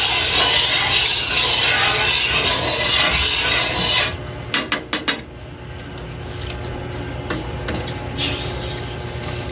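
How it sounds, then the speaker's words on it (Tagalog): A utensil scraping oil around the rim of a hot frying pan, with a broad hiss first, then a few sharp metallic clinks and light scraping over quieter sizzling. "Mantikaan natin yung palibot ng kawali para walang bahaging dumikit"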